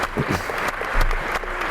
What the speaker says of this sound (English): And all the audience applauding in the background.